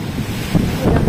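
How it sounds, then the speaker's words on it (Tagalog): Strong wind roaring outdoors, a broad rushing noise with gusty swells and rumbling buffeting on the microphone, no voices. "Ayan, hangin lang pala. Wala palang ulan. Hangin lang."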